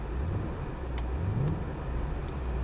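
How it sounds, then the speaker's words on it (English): A 2021 Audi RS Q8 engine, hail-damaged, idles and is given a brief rev, a steady mid-pitched rumble rising slightly in the middle and settling back. "Give it a little rev."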